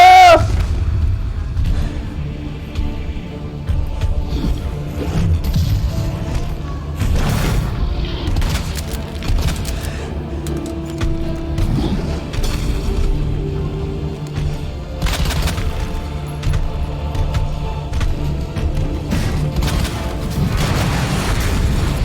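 Explosions in the video game Resident Evil 2 boom repeatedly through a dense, loud stretch of action, heavy low thuds layered over gunfire-like bursts and mechanical clatter.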